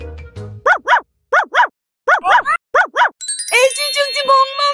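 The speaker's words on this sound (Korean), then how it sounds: "아이 멍멍이, 멍멍이가 도망간다." A cartoon dog barks in quick pairs of sharp, loud yaps repeated several times with short gaps, followed by a bright jingling chime near the end.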